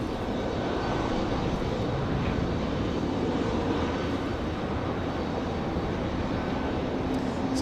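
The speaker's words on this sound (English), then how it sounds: "The American from Miami is going to come down the hill here on the south end of the runway" An American Airlines jet arriving from Miami comes in to land at Raleigh-Durham airport at night, its engines a steady, broad roar that holds evenly throughout with no talk.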